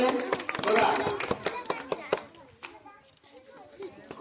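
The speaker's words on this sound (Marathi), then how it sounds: "त्याच्यासाठी टाळ्या झाल्या पाहिजे" Schoolchildren in a classroom at a Zilla Parishad primary school applauding a classmate, a quick burst of many hands clapping that fades after about two seconds into scattered claps and children's chatter.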